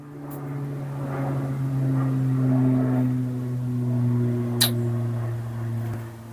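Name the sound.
airplane passing overhead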